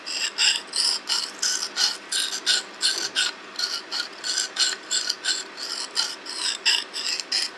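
An Opinel No. 8 knife rasps across a wet sharpening stone in steady, evenly spaced strokes, about two per second, close and clear with no talking.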